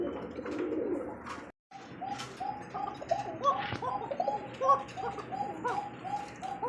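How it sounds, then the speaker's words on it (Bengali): Pigeons at a market stall cooing in a close, repeated series of low throaty coos over a murmuring background, with a brief dropout early on. "কাকা কবুতর দেখছেন পকর পকর এমন ডাক যদি"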